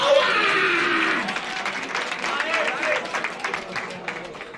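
Crowd at a Batalha da Aldeia rap battle bursts into loud clapping and cheering that peaks at the start, then fades into scattered applause and shouts, with voices mixed in.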